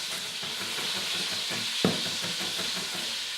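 Pieces of lamb sizzle and fry in a hot pan, giving a steady bright hiss throughout, with one sharp clack of stirring or a utensil partway through and no talking.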